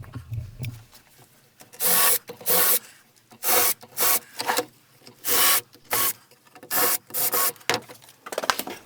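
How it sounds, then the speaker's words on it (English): A power drill whirs in repeated short bursts, pre-drilling pilot holes through timber battens with gritty, rasping bursts separated by brief pauses. "I can pre-drill through the battens."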